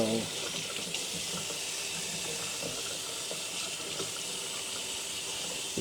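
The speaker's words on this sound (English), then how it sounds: "wash your hands" A kitchen tap runs steadily during handwashing, giving an even, close, continuous hiss of flowing water with faint splashing throughout, a voice briefly audible beneath it.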